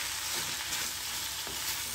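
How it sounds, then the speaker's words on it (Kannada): About 1¼ kg of okra (lady finger) frying in oil over a medium flame, with a steady close sizzle and soft stirring scrapes, no voices. "ಚೆನ್ನಾಗಿ ಎಣ್ಣೆಯಲ್ಲಿ ಮಿಕ್ಸ್ ಮಾಡಿಕೊಂಡು ಫ್ರೈ ಮಾಡಬೇಕು."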